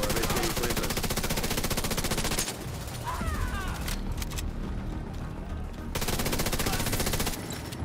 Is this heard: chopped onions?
no